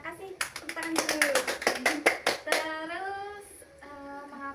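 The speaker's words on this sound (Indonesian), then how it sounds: "Ya betul Vanessa, kasih tepuk tangan dulu" Children in a classroom clap their hands together in a quick, rhythmic burst of about a dozen sharp claps. A voice then speaks as the clapping stops.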